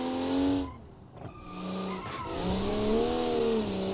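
Car braking hard and skidding in the BeamNG racing game, a 1980s Japanese car whose engine note falls as the tires squeal and scrub, then the engine revs climb again, loud and up front with no talking.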